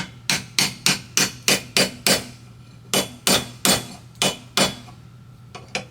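A bearing is driven into a 1985 Honda ATC 110 wheel hub held in a small vise, making about fifteen sharp metallic hammer strikes, close and loud, in an uneven rhythm with short pauses between groups.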